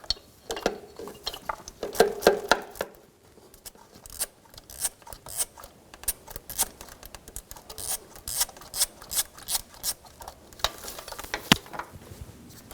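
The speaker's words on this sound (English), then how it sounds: "Using a 12mm socket, remove that nut." Ratchet wrench with a 12mm socket backing a nut off a starter cable stud on a 2013-2017 Honda Accord, a close series of rapid clicking pawl bursts in uneven runs, no talk.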